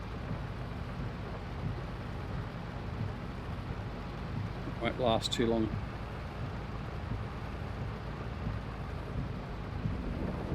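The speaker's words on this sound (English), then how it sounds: "With the thunder in the background, doesn't sound as though it's going to be just a light storm" Thunderstorm with rain in Farming Simulator 22, a steady wash of rain with a low thunder rumble underneath, while someone talks briefly over it midway.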